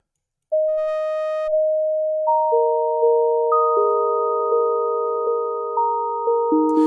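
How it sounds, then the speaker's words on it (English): A synthesizer melody transposed up in pitch, of sustained pure tones stepping through pitches, holding long notes in a slow, steady sequence, loud and clean with no voices. "let's take that synth and transpose it up, and then we just change the sound a tiny bit"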